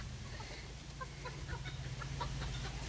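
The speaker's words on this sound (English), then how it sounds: "he's going after a rooster" A rooster clucks in short repeated bursts outdoors, its calls scattered through the clip over a steady low background hum.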